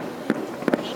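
Small July 4th fireworks at Harbor Springs, heard from Bay View, give off a few short pops: one, then a quick pair a moment later, over a soft outdoor murmur.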